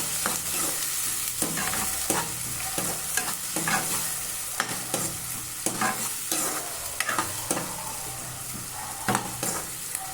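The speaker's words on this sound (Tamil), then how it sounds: "இப்போ ஒரு கப் வெங்காயம் சேர்த்துக்கலாம். வெங்காயம் நல்லா வதக்கிட்டு" Chopped onions sauté in a pan for a dried-fish kuzhambu, giving a steady broad sizzle broken by repeated scraping stirs of a spoon throughout, with no voices.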